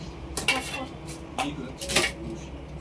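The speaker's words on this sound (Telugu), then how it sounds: "చూసారా ఫ్రెండ్స్, మా అక్క ఎంత పెద్ద కత్తితో కోసేస్తుందో" Several sharp knife strikes on a board as a big knife chops onions in a home kitchen, with clattering dishes between the cuts at close range.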